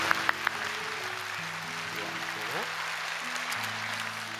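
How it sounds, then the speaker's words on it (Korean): Congregation applause for a church orchestra and choir, a steady wash of clapping filling the large worship space throughout, with sustained instrumental tones lingering underneath. "우리 찬양대들 늘 봉사하고 하는들 박수로 한번 격려하겠습니다"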